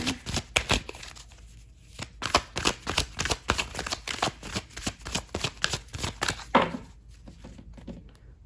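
Tarot cards being shuffled in a run of crisp, rapid riffles and slaps, close and fairly loud, with short pauses between bursts and no talking.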